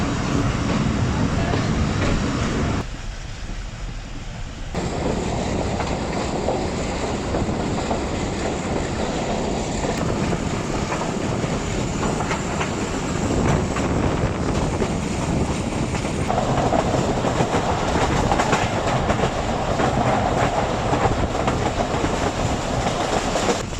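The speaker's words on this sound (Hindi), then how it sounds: "थाल express Taxila cantt junction railway station पे पहुंच रही है।" Thall Express passenger train arriving at Taxila Cantt Junction station in Pakistan, on the Rawalpindi to Mianwali route: a loud, continuous rumble of rolling carriages with clattering wheels and wind buffeting, easing briefly early on before building again.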